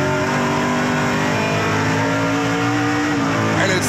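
Onboard a Kubota Chevrolet race car in the 2019 NASCAR Pinty's Series, a loud continuous engine roar held at high revs, close and dominating throughout.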